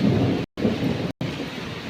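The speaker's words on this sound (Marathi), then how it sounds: "विजा एक कुठं कडकडतात" Thunder rumbles low and heavy through a hard, unseasonal rainstorm, rain hissing steadily across the surface, with the sound cut by two brief gaps.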